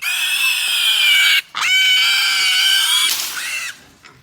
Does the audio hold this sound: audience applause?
no